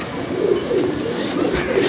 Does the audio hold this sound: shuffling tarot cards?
no